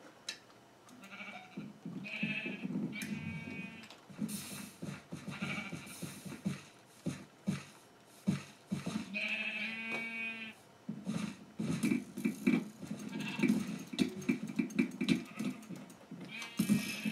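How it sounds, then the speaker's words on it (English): Sheep bleating in the game Minecraft, several distinct bleats scattered across the stretch, fairly close and clear, with keyboard tapping and some brief speech between them. "I hear sheep."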